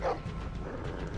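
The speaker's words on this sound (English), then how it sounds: "That's a dog." A dog barks in the Game of Thrones video game, one short yelp at the start followed by a low, muffled game ambience.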